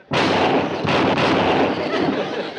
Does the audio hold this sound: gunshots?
yes